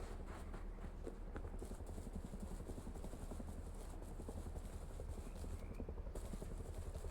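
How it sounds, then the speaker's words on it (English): A helicopter in the video game 7 Days To Die drones steadily throughout, its rotor giving a continuous rhythmic thudding chop over broadband noise, fairly distant but constant. "Oh, there's the heli."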